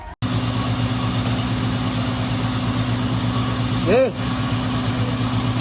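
A Toyota Innova engine with heavily blackened internals starts up and settles into a steady, even idle during turbo and EGR cleaning, running close and continuous while someone briefly speaks near the end.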